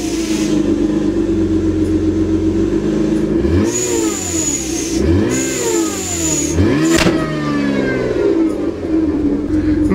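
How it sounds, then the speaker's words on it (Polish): A supercharged BMW E39 engine with a boost bar fitted revs up repeatedly from idle, and each throttle release brings a sharp hissing whoosh of boost air. The engine is loud and close throughout. "jak dodaję gazu, to słychać, że jest zamknięty, a później jak puszczam gaz, to od razu słychać te puszczenie powietrza"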